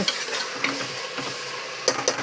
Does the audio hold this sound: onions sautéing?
yes